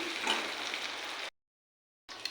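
Potatoes fry with turmeric in a pan, a faint, steady sizzle that cuts off briefly to silence and then resumes.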